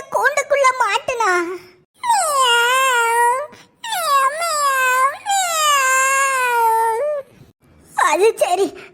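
A cartoon cat trapped in a cage gives drawn-out, wavering wailing meows in several long bursts with short gaps, loud and close, sounding like a crying voice that may be a person imitating a cat.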